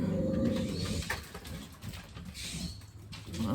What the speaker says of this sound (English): Crows, dogs, and songbirds all battling each other